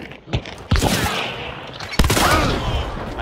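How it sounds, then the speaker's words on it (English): Gunfire in Hunt Showdown: a loud burst of shots right at the start, then rapid cracks and a second sharp volley around the middle, with echoing tails between the shots. "I'm being shot at the side over here now."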